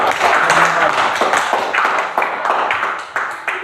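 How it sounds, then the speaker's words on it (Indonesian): A class of students claps for a classmate after a presentation, a brisk crowd of hand claps with uneven bursts that continue throughout. "Mari kita tepuk tangan"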